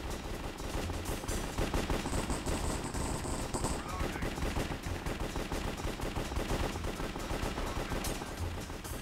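AK rifle gunfire in a Minecraft cops-and-crimes minigame, rapid automatic bursts running continuously and loudly through the whole stretch amid dense game noise.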